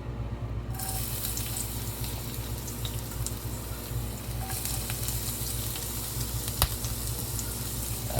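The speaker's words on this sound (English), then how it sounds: "let the olive oil heat up in the pan. Then let's add some ginger and garlic." Ginger and garlic sizzle steadily in hot olive oil in a pan, a close, continuous crackling fry with faint stirring clicks and no talk.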